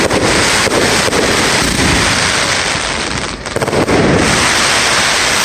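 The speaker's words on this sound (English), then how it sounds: "Listen to these fireworks. They're very, very loud indeed." Fireworks detonate continuously over Liverpool, a thick wall of loud bangs, crackles and rumbling with wind buffeting the microphone, sustained and near throughout.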